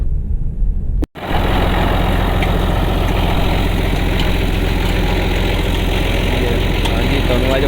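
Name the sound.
tractor engine running a tubewell bore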